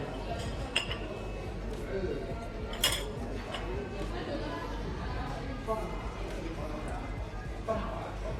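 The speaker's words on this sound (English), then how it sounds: "Oh, they wash cups here." Cups and bowls clink as they are washed at a 136-year-old Cantonese tea house, with scattered light chinks of crockery and cutlery over a busy murmur of diners' chatter.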